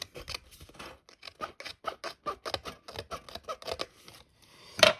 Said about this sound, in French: je vais découper le contour comme d'habitude